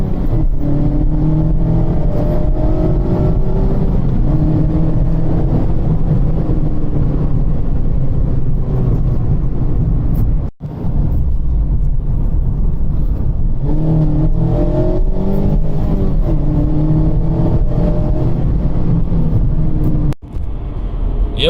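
A 2019 Mazda MX-5 accelerating hard through the gears, heard from inside as a loud rising engine note with two brief pauses for gear changes before climbing again.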